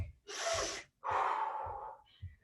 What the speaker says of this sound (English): walk it out and breathe. 2 more big breaths.